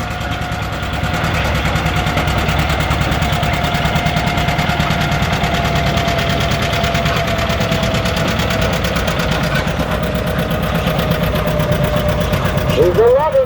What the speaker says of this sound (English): Here he comes. John Deere 820 diesel.